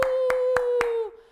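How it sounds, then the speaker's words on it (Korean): Four evenly spaced, sharp hand claps mark a church's anniversary celebration during a youth worship service, each crisp clap cutting through a steady sustained tone that fades out right after the last one. "박수!"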